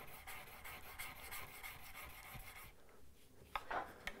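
A plane blade is rubbed back and forth on coarse and then medium sharpening stones. The rasping strokes are steady and close, and a few sharper scrapes come near the end.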